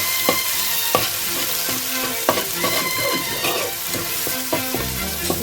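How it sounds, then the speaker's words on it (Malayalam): Crushed garlic and ginger frying in a pan while being stirred: a continuous hiss of hot oil broken by repeated sharp clicks and scrapes of a spoon against the pan, close and fairly loud. "നമുക്കൊന്ന് ഇളക്കി കൊടുക്കാം"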